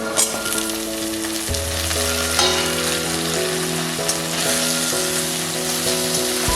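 Potato pieces fry in oil with lightly browned onions and cumin, giving a dense, continuous sizzle that runs under steady background music.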